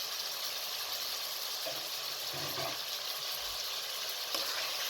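Meat frying with whole spices in a pan over a medium flame, a steady broad sizzle holding throughout, with a few soft stirring bumps and no voices.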